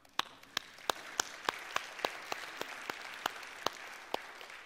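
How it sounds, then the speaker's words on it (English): Congregation applause at a church Sunday service, a steady wash of many hands clapping with sharp individual claps standing out, continuous throughout. "Give yourself an applause."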